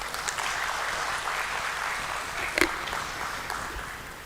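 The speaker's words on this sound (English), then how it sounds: "Please welcome him with a huge round of applause" An audience at a bond listing ceremony at a stock exchange claps to welcome a speaker, a steady round of applause with a couple of sharper claps standing out midway.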